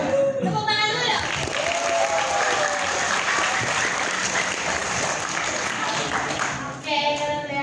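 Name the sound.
students applauding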